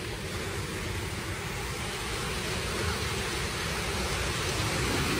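A waterfall in Colchester roars as a constant, dense broadband rush of falling water, close and steady throughout with no talking.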